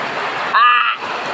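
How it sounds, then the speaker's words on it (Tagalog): Heavy typhoon rain pours steadily around a house in a loud, dense hiss, briefly broken by a short voice in the middle. "Lakas ng ating ulan."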